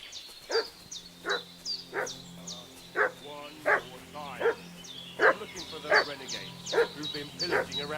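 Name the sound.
dog barking in Kingdom Come Deliverance 2 video game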